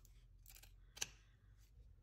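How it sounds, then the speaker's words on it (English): Scissors snipping through felt while trimming a gnome hat, a few quiet, close, crisp cuts with one sharper snip in the middle. "just trim it all the way back"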